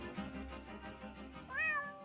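Cat meowing from up a tree in the Deponia adventure game, one short rising-and-falling meow near the end over a steady background music bed.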